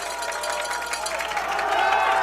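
Home crowd noise at a college football game, Montana Tech Ore Diggers fans at Rocky Mountain College, a steady broad roar of distant cheering that swells slightly toward the end, with a commentator talking over it.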